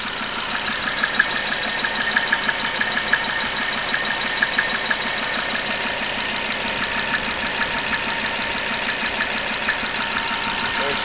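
Mazda B2600i turbo diesel engine idling on its first run after a head gasket replacement: a steady, close chugging idle with an even knocking rhythm throughout, no voices.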